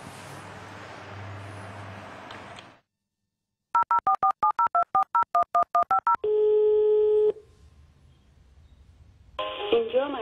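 A telephone call is placed: after some road noise, a rapid run of about a dozen touch-tone beeps dials the number, followed by a steady line tone lasting about a second, then more background noise.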